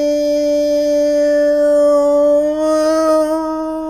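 A Hitachi Javelin train's variable-frequency drive whines in pattern mode, steady stacked electric tones gliding slowly upward, loud and continuous throughout.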